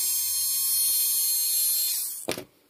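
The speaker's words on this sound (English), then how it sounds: "So, Reedy, full metal gear servo winch." A Reedy full metal gear servo winch whines with a thin, high electric motor drone, then ends in a short mechanical clack and stops; close up, with no talk.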